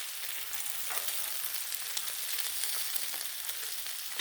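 Breakfast sandwich ingredients fry on a Blackstone griddle with a steady, close sizzle and crackle that stays even throughout, with no one talking.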